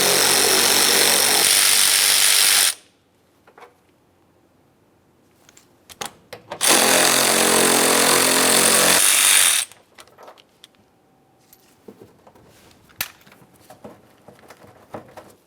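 A power tool zips 10mm bolts off the bumper cover of a 2005-2010 Dodge Dakota: two loud, close bursts of a few seconds each, separated by quiet clicks and handling noises.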